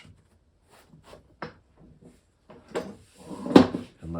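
A wooden workpiece for an 18th-century Newport secretary reproduction is handled at a bench vise, making sparse light knocks and scrapes that end in a louder clunk of wood seating against the jaws.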